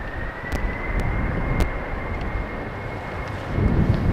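An airliner rumbles faintly and steadily at Amsterdam Schiphol's runway 36L, a distant low drone mixed with wind noise, with a few brief ticks over the top.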